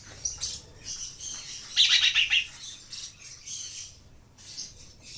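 Small parakeets chirp and tweet in quick, overlapping bursts close by, with a busier flurry of high squawky calls near the middle.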